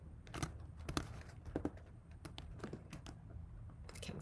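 Quick, uneven keystrokes on a computer keyboard, close and fairly loud, tapping in short bursts with brief pauses and no talking.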